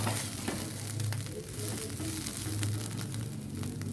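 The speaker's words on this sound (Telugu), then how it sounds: "రొయ్య పొట్టును అయితే బాగా ఎర్రగా వేయించుకోవాలండి" Dried shrimp shells fry in a small kadai, producing a continuous, close, moderate sizzle with occasional stirring scrapes.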